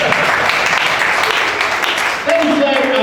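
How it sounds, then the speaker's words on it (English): Attendees at a business round-table in Abia State clap together in a dense, steady patter of applause, close and loud, with a voice speaking faintly near the end. "Please, can you clap for us?"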